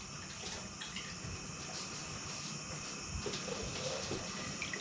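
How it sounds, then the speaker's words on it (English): Tap water runs steadily over red lentils in a small kitchen sieve, a continuous close hiss and splatter with no talking. "I'm going to rinse them off under the tap and then pop them into that pot."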